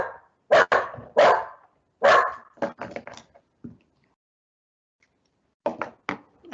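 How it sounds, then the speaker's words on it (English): A dog barks sharply indoors in short bursts of two or three loud barks, with a few softer yips, and pauses of silence between the bursts. "Apologies, my dog in the background."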